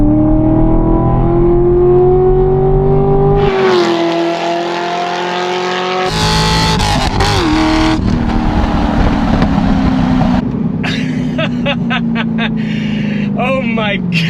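Engine of a sports car, a C6 Corvette Grand Sport or fifth-generation Camaro ZL1, roaring loud and close through a hard full-throttle pull, climbing steadily in pitch with abrupt gear-change breaks and a voice exclaiming.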